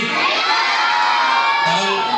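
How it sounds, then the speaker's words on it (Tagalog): A crowd of children shouting and cheering together at a community outreach event in Pasay City, Philippines, loud and close, a continuous excited roar of young voices. "Ang lakas ng sigaw"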